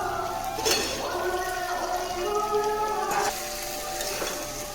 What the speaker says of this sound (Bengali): এবারে ভেজে রাখা সবজিগুলো দিয়ে দিচ্ছি।